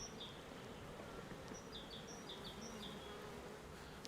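Honeybees in a hive hum in a soft, steady drone throughout, with faint high chirps scattered over the buzzing and no voices.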